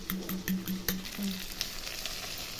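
Beaten eggs mixed with ginger-garlic paste, turmeric, chili powder, garam masala, salt and drumstick leaves hit a hot pan, giving a soft, close sizzle with a few short clicks and taps early on, no voices.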